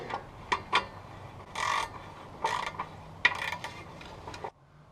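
A wrench ratchets as the rear bolts of the catalytic converter are tightened on a 2001 Honda Accord, giving repeated close metallic clicks and clunks in short bursts that end abruptly.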